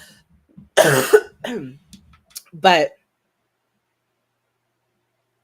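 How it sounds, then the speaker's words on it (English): A few harsh, raspy coughs from someone recovering a lost voice during an online writing workshop, close to the microphone, in two bursts separated by a short word, then silence. "I look horrible when I cough."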